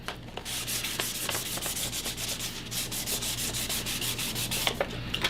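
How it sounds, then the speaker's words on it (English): A leather edge is sanded with 1500 grit sandpaper, giving a close, steady rhythmic rasping rub of quick back-and-forth strokes with no talking. "But now we're going to actually sand it again with a 1500."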